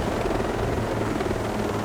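Helicopter in Ghost Recon Breakpoint flying low over terrain, a steady loud rotor and turbine drone filling the whole stretch with no talk.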